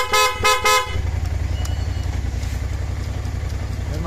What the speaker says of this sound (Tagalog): Ito yung busina yan, ayaw nyo yung Europa eh, gusto lang niya talaga PIAA.